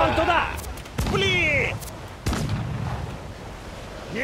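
Ship cannons fire in the naval combat of Assassin's Creed 4 Black Flag, sharp booming blasts at about one and two and a quarter seconds amid sea noise, while voices shout over the action.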